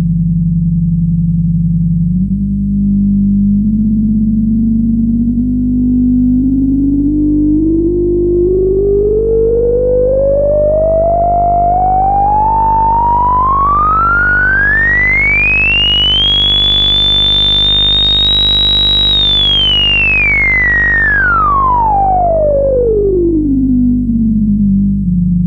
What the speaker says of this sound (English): Control voltages above 4 volts cause the filter to self-oscillate.